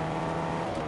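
A brief burst of a revving video game race car engine with a droning, buzzy tone, close and fairly loud.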